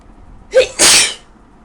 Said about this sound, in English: I'm like sneezing in the camera